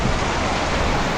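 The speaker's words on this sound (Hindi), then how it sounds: "बहुत अच्छी बारिश, फिर तो मज़े आ गए" Steady rain pouring down at a roadside stop near Omkareshwar, a dense, even hiss of falling water with no breaks, close and fairly loud throughout.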